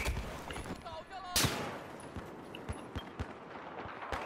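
Scattered gunshots from the video game Battlefield 4, a few sharp cracks and rattling bursts spread across a few seconds, fairly close, under ongoing game noise with some voice activity.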